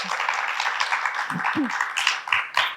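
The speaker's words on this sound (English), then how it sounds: "Give her a round of applause." A studio audience claps on a TV talk show, a steady broadband patter running through the whole stretch with a voice talking over it.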